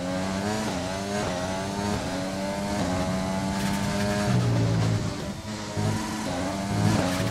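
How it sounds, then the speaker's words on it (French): An F1 2020 race car in the video game screams at high revs into over-revving, its engine whine rising and shifting in steady loud layers with brief dips as gears change, with no speech over it. "Un petit peu de sur-régime."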